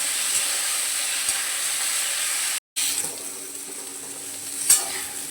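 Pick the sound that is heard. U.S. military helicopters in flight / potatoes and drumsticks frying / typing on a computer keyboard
potatoes and drumsticks frying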